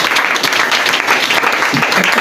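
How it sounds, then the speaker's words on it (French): A church congregation at an evening service claps steadily for a new convert, a full, dense burst of applause that carries on evenly throughout. "Est-ce que tu peux acclamer pour un nouveau converti ce soir?"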